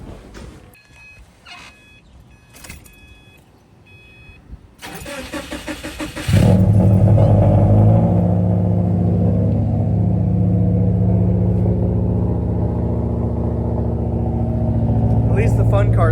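A car is cranked after some clicks and a short whirring starter, then the engine catches and settles into a loud, steady close-up idle with light revving that holds to the end.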